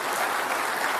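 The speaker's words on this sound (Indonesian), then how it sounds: "kita bisa kasih tepuk tangan untuk Pak Anies Baswedan" Dense audience applause for Anies Baswedan at a televised Jakarta gubernatorial debate, a continuous even roar of many hands clapping at moderate volume with no pauses.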